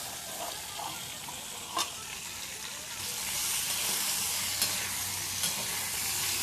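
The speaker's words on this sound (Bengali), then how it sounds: "এভাবে বন্ধুরা অনেকটা সময় ধরে ধরে ঢাকা চাপা দিয়ে বন্ধুরা আলুটাকে ভেজে নিতে হবে" Potatoes fry in a covered pan for a Bengali drumstick and potato dish, giving a continuous hiss and sizzle that grows louder partway through, with a few light clinks close by.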